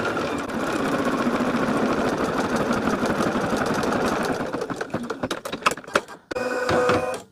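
An embroidery machine stitches steadily in the hoop, laying down black thread for an in-the-hoop project, with a dense, even mechanical whir for most of the span before it slows to separate stops and starts near the end.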